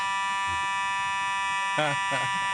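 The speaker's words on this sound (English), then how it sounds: "a fire alarm here at our GPP studios, to be exact" A fire alarm sounds inside a TV studio, a steady buzzing electronic tone running continuously at moderate level, while a person speaks briefly over it.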